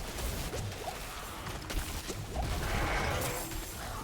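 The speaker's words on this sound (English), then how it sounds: "So many explosions." Dense, continuous lightning-spell explosions and crashing impacts from a lightning mage fighting monster crowds in the video game Diablo 4, a busy, roaring wash of blasts with no voice over it.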